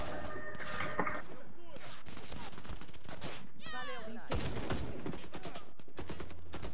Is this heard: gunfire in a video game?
yes